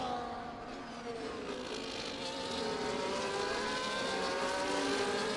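Formula 1 race cars in a train of six run at Hungary in a sim racing game, their engines a steady high-pitched whine that slowly builds and rises in pitch, with no talk.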